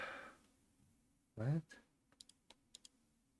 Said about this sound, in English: Are you guys able to hear that keyboard slapping, typing, macking?